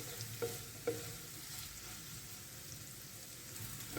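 Onions fry in a pan with salt for a spicy fish masala dish, a soft continuous sizzle and crackle at low level, broken by a couple of light taps of a stirring spoon near the start.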